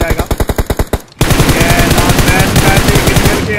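Automatic gunfire in a battle royale tournament video game: one sharp rhythmic burst of shots, a short gap, then a long dense continuous volley, loud and close.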